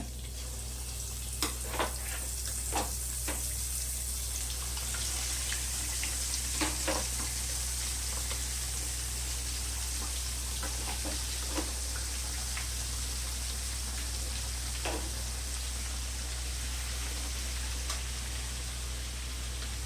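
A ground paste of many herbs for homemade hair oil fries in hot oil, giving a steady, fairly soft sizzle broken by sharp scattered crackles and pops, with no one talking.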